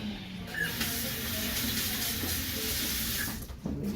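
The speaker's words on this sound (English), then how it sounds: "Water" A tap runs steadily into a sink at a barbershop during a gentleman's haircut, a constant close rush of water that cuts off near the end.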